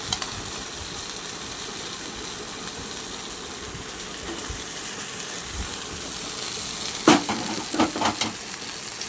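Fish roe and cauliflower fry in oil in a pan, with a steady broad sizzling hiss throughout and a few sharper clatters of stirring near the end, close by and with no talking.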